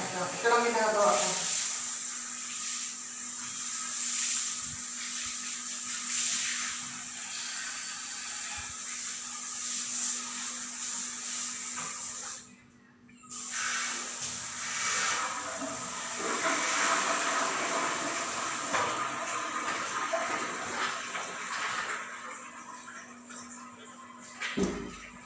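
Steady hissing spray from a handheld shower used in place of a bucket and dipper, running continuously with a brief pause midway, close and fairly loud.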